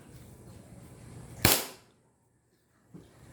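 A single sharp crack from an upgraded airsoft pistol, a Staccato or CZ Shadow 2, fired once with a short decaying tail, then a faint soft knock after it.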